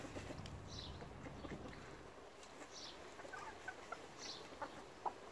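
Several hens cluck softly nearby, short scattered calls over a quiet outdoor background.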